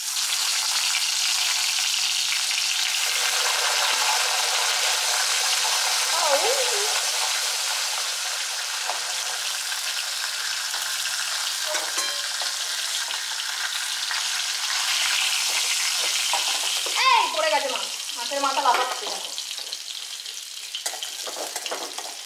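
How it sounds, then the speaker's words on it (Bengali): A hilsa fish head frying in hot oil, flipped from side to side, gives a steady, loud, dense sizzle that runs throughout, with brief spattering bursts and turning sounds midway and near the end. "ইলিশ মাছের মাথাটা এইভাবে এপিট ওপিট করে ভেজে নিয়ে"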